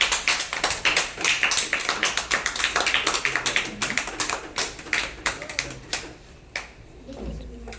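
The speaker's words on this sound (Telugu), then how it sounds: "అందరు కూడా చప్పట్లు కొట్టండి" Children in a classroom applaud together, a steady run of quick claps that thins out and fades near the end, with a voice faintly underneath.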